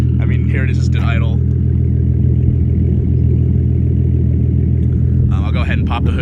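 A Nissan 370Z with a resonated Y-pipe and loud Tomei custom exhaust idles with a steady, deep, droning rumble close by, with a few brief bursts of higher hiss near the start and end.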